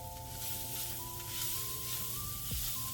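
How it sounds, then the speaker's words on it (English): Ground beef and onions sizzling together in a pan for enchiladas, a steady low crackle and hiss with a faint tonal hum running beneath, no voices. "I'll go ahead and add the ground beef back to the pan. Let it mix up with the onions"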